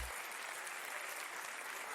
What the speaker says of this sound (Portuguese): Aplausos pro Caio.